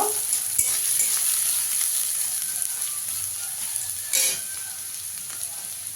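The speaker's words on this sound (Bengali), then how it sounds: "পেঁয়াজটা একটু ভেজে নেব।" Chopped onion, one large onion, sizzles steadily in hot oil in a pan, a close, continuous crackling fry with a couple of sharp clicks from stirring.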